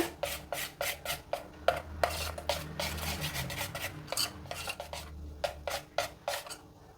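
Appam batter is mixed with sugar and salt, a spoon scraping and clinking against the bowl in quick repeated strokes. Brief pauses break up the close, crisp sounds.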